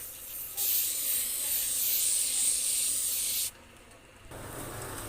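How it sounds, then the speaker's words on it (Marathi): Hair spray hisses in one continuous close burst of about three seconds onto a pinned-up hairstyle, then stops, with faint room noise afterward. "आता स्प्रे करायचे."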